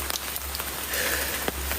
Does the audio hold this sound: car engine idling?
no